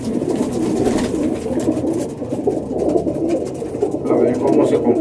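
Pigeons cooing steadily at a racing-pigeon event, a dense, continuous murmur of many birds close by with no speech over it.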